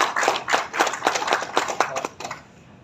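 A small audience claps for a few seconds to welcome a speaker at a formal village gathering, brisk close-up clapping that fades out quickly.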